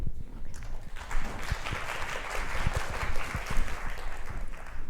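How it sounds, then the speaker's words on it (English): A conference audience at a tinyML Asia event applauds to welcome a speaker, a rough, fairly faint rush of clapping that holds steady for several seconds with uneven bursts. "please welcome her with big applause"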